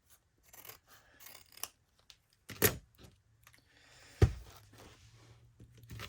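A few sharp scissor snips trimming paper for a junk journal, with light paper rustling and small handling clicks, close by in a quiet room.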